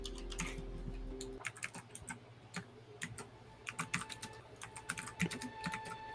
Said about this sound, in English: Scythe's typing.